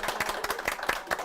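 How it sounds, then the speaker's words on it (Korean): A studio audience at a live Korean business talk show claps to welcome the guest: a short, moderately loud burst of scattered hand claps with no voices over it. "박수 부탁드리겠습니다."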